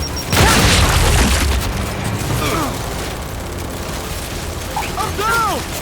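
A frag grenade blows up in the shooter game Gears 5: a loud, close boom with a burst of debris and rumble, followed by scattered weapon and mechanical noises under ongoing shouting.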